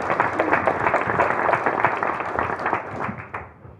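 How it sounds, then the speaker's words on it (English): A community crowd at a mayor's evening event gives a hearty round of applause for the park's engineers, thick clapping that stays strong before thinning out at the end. "Give them a big round of applause, everybody."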